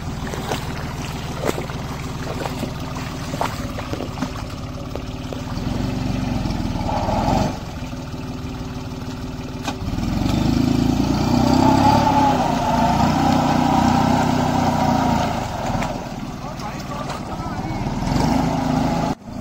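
A Kubota mini tractor engine puddling a wet field, a steady loud mechanical drone that swells midway and runs throughout, with someone talking over it.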